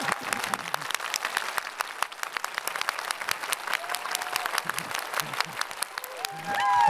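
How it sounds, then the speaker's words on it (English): A live audience claps and cheers on cue at a business talk show event, dense continuous applause with crowd noise and a few whistles, heard without distinct speech. "You got to clap 32 times."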